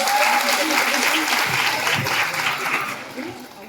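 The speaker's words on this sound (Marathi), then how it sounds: "तर तुम्हा सगळ्यांसाठी एकदा टाळ्या होऊन जाऊ द्या प्लीज" A crowd at a TV serial set celebration claps steadily in a thick wash of applause that tapers off toward the end.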